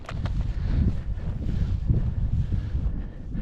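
Steady wind rushing outdoors during a free flight of a juvenile female red-tailed hawk used in falconry, a continuous low buffeting roar across the microphone with no pauses.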